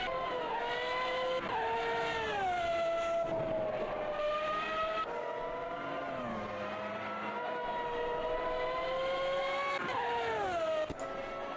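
A 1995 Benetton Formula 1 car, the championship-winning Michael Schumacher car, races at Catalunya in a racing sim, its high-revving engine wailing continuously with rising and falling pitch sweeps through gear changes and corners, loud and close throughout.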